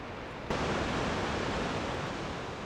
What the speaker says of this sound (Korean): 폭포수 위로 빨래판 같이 생긴 물결이 인다